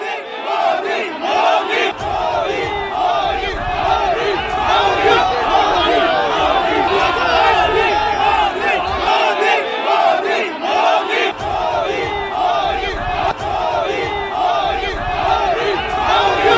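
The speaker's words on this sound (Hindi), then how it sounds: "आसपास जो भीड़ नजर आ रही है वहां से मोदी मोदी के नारे लग रहे हैं" A large outdoor crowd at a political gathering in Deoghar shouts rhythmic "Modi Modi" slogans, a dense, continuous roar of many voices with recurring chant surges throughout.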